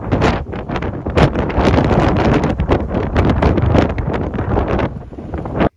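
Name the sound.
strong wind on the Rio-Antirrio bridge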